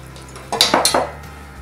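A spoon stirs hot tomato marinade with apple cider vinegar in a pot, giving a brief cluster of three or four quick metallic clinks against the pot's side, close and alone.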